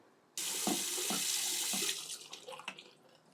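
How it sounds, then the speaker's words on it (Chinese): Tap water runs loudly into the tank of a Waterpik water flosser, a steady gush that starts abruptly, with small clinks of the plastic tank, then tapers off as the flow slows. "我们先把它装水，把这个孔的盖子打开。"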